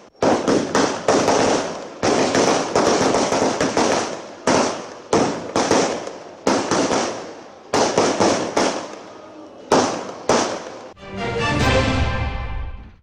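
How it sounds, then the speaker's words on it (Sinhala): Firecrackers set off by political party supporters celebrating a presidential appointment in Sri Lanka, a long string of loud rapid crackling bursts with brief gaps, ending in a dense fizzing volley, with no talk. "එක්සත් ජාතික පාක්ෂිකින් රතිඤ්ඤා දල්වමින් සිය සතුට පළ කළේ මේ ආකාරයෙන්"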